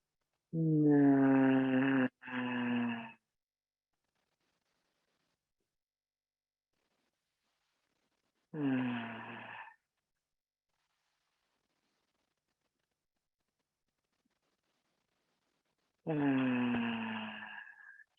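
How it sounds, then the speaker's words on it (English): Slow deep breaths, three long voiced exhalations spaced apart with silence between, close and fairly loud, during a guided meditation session. "So let's just do several deep breaths like that."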